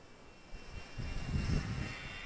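An XK A220 P40 Warhawk 384mm RC model plane in flight, its small electric motor droning steadily and swelling louder as it passes closer, heard alone without talk.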